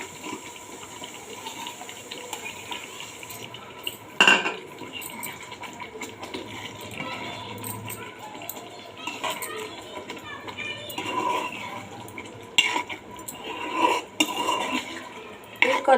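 Fried ivy gourd pieces go into a pan of curry gravy, with metallic clinks of a utensil against the pan and scraping stirs. The sounds are fairly close and intermittent, with a couple of sharper knocks.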